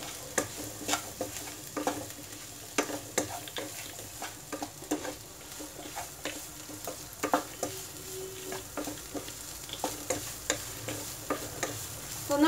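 Frozen green peas fry in a hot pan with curry leaves while a spoon stirs them, giving steady close sizzling broken by repeated scraping strokes and light clinks against the pan.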